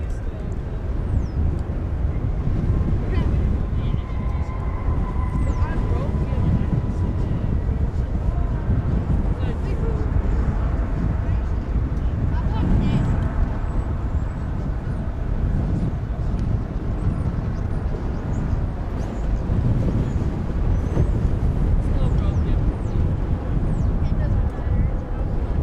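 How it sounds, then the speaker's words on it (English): A Delta Airbus A320 airliner at DFW Airport gives a steady, broad roar heavily mixed with outdoor wind buffeting on the microphone, constant throughout with no clear rise or fall. "Here's Delta. It's an Airbus A320. It is going to Salt Lake City."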